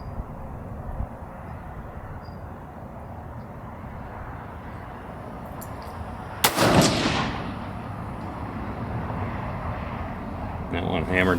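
A single sharp crack from a 22 Nosler rifle firing factory 85gr RDF ammunition at a 100-yard range, followed by a rolling echo that fades over a few seconds against steady outdoor background noise.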